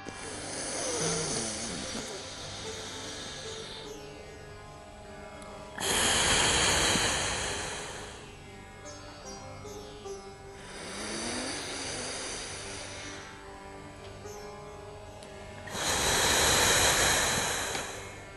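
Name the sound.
breathing in through the left nostril during pranayama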